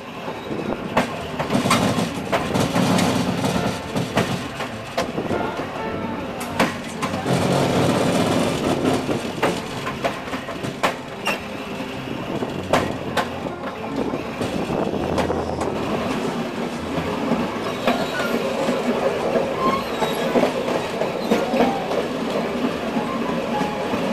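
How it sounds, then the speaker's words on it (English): A train pushed by a locomotive rolls steadily along the rails in Poland, wheels clicking and clattering with a constant rumble and occasional squeals, loud and close throughout. "the locomotive ran around the train and pushed it the rest of the way"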